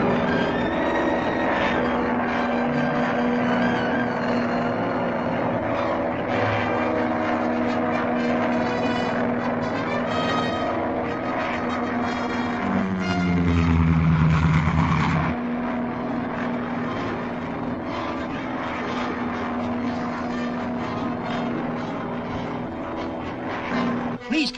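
An airplane engine drones steadily through a radio drama scene, a loud continuous hum with a brief swelling, lower-pitched passage midway, and speech layered in places.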